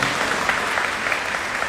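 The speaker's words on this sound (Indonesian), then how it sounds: "Tepuk tangan, amin." Audience applause at an Indonesian policewomen's talk event on personal branding, a steady wash of clapping filling the whole moment without pause.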